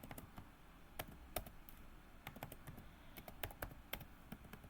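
Code is typed on a computer keyboard, with quick, irregular clicks and taps, some in short bursts and others spaced apart, close and fairly quiet against a faint background hiss.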